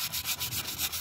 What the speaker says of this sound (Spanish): Tendríamos que lijar por completo el rin